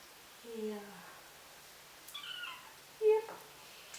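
Two-week-old kittens give a few thin, high meows during a bath, faint and spaced apart, with soft rustling and water in the background.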